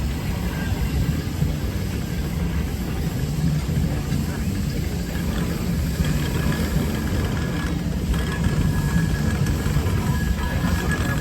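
A steam traction engine runs at a steam show, a loud continuous rumbling chuff and mechanical clatter held steadily throughout, close by.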